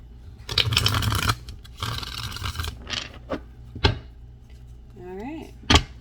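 Tarot cards are shuffled by hand in a few rustling, riffling bursts with short pauses between them, close and fairly crisp, followed by a couple of sharp taps and a brief voice near the end.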